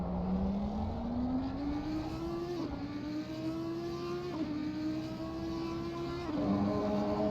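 A race car engine in a VR racing game at Circuit of the Americas revs hard and close, climbing steadily through each gear with three clean upshifts, on its own.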